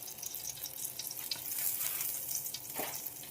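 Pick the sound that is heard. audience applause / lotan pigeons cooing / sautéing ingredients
sautéing ingredients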